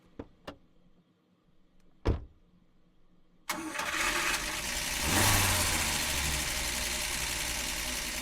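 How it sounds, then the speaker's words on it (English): An old car engine starts after a few sharp clicks, then runs with a loud, steady, rough rumble that swells slightly midway. No talking. "That's an old sounding car."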